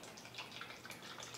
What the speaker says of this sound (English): Oh, it's coming out like water, and it's really foamy.